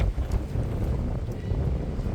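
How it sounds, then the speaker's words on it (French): Wind gusts buffet the microphone with a steady low rumble, loud and continuous, with no talking. "Vous entendez le vent souffler, c'est vraiment horrible."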